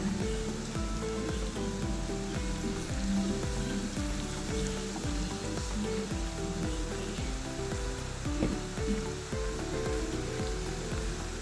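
Chopped ginger sizzles and crackles steadily in hot oil in a pan while a fish pickle is being made, a constant frying hiss that runs under background music.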